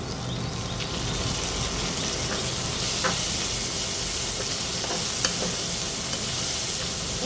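Tomato with a pinch of turmeric and spices sizzles steadily in a pan while being stirred, a continuous close frying hiss with occasional soft scrapes of the spoon and no talking.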